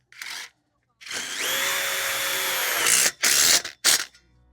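Power drill driving a self-drilling screw into the frame of a caterpillar tunnel: a short opening burst, then a steady whining run of about two seconds, followed by two brief closing bursts of the motor.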